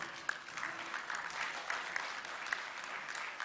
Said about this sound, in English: Ladies and gentlemen, if you are seated, let me hear you clap.